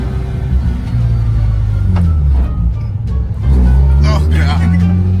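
Learner driver's car accelerating on a quiet neighborhood street near a park, a steady low engine rumble that rises slightly toward the end, with people talking inside the car over it.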